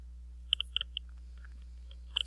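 Several sharp computer mouse clicks, quiet and close, in small irregular clusters with short pauses between them, alone without any talk.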